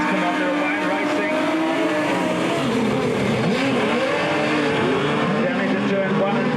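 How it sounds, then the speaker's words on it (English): Pack of modified sedan race cars at Albany Speedway roaring off the start of a heat, a loud continuous engine roar with shifting pitches as several cars accelerate together, under a race commentator's voice. "The green lights come on. They're away and racing."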